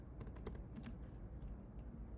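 Quick, light keystrokes on a computer keyboard, a run of irregular close clicks over a low steady room hum.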